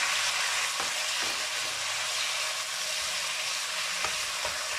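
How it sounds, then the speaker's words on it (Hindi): Chicken frying in hot oil in a pan gives a soft, steady sizzle, with a few faint knocks and stirring sounds now and then, and no voices. "अब ये ऑयल बहुत ही अच्छी तरह से गर्म हो चुका है। अब हम इसके अंदर अपना चिकन डाल लेंगे।"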